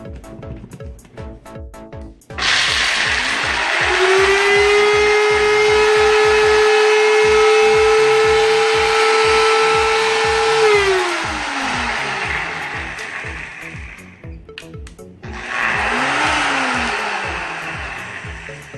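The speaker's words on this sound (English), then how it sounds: "grind up all of our almonds until they're fine powder" A NutriBullet blender grinds almonds into fine powder, its motor roaring loudly and steadily for several seconds before winding down, then starting again in a second shorter burst, with rattling clicks before the first run.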